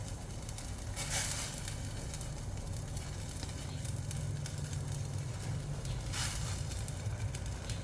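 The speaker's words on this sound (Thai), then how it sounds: "น้ำเดือด แล้วค่ะแล้วยายพรก็ใส่" Steady bubbling and sizzling of a pot of tom yum broth on the boil as salmon belly is added, continuous and close, with a brief burst of sharper hissing partway through.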